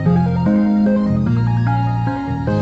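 A poker machine's winning jingle plays a quick run of bright, stepping synth tones, loud and continuous for a couple of seconds, with no voices.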